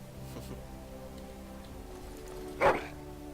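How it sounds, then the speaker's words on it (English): Dog giving a happy bark in the video game Dragon Age Origins: a single short yip-like bark near the end over a quiet, steady game ambience. "Happy bark"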